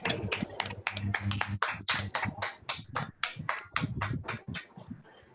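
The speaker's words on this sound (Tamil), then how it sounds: "அன்மியூட் பண்ணிட்டு கைத்தட்டலாம் எல்லாருமே." Scattered clapping from participants in an online meeting, several people clapping unevenly at once with sharp, close claps that thin toward the end.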